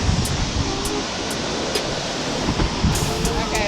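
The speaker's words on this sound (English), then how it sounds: "So we have the first waterfall." Waterfall on the North Fork American River near Emigrant Gap roars as steady, broadband rushing water, loud and close, with wind buffeting the microphone throughout.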